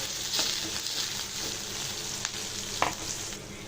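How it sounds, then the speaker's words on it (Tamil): Garlic, onion and green chilies sautéing in a pan with mustard seeds and curry leaves, a steady moderate sizzle broken by a few sharp clicks of a spoon against the pan. "இப்போ இதில் வெள்ளைப்பூடு வெங்காயம் பச்சை மிளகாய் போட்டு நல்லா வதக்கிக்கலாம்"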